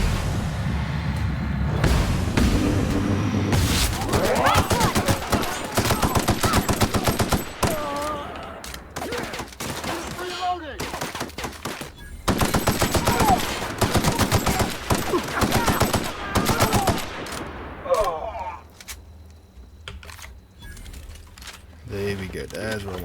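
Gunfire in The Outer Worlds: repeated volleys of sharp shots and rapid automatic bursts, loud and close, broken by short pauses, with someone talking over the fighting and the shooting thinning out near the end.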